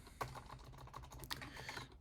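Keys click on a computer keyboard in a quick, uneven burst of close taps, with a couple of sharper strokes standing out in a quiet room.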